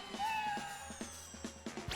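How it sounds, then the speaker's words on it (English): A cat meows a few times in quick succession, close and fairly faint, with a short rising cry and soft repeated calls in a quiet room. "Cat noise."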